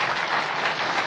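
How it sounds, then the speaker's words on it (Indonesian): An audience at a passive-income seminar claps in a steady, dense patter for about a second, fairly loud and filling the room. "Ya, tepuk tangan dong untuk yang passive income."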